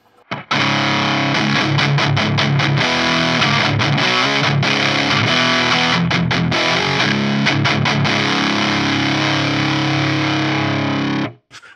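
Heavily distorted electric guitar through a Lichtlaerm Audio Total Distortion Worship mk2 pedal, played loud and dense with rhythmic chugging stops and bursts, sustained saturated tone throughout with no talking.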